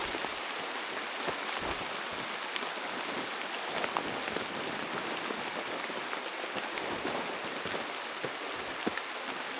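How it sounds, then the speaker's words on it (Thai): Steady rain pours down in a forest, a dense continuous patter of drops hitting leaves and ground, moderately loud and close, with no voices. "พอดีบรรยากาศฝนตกเลยทุกคน"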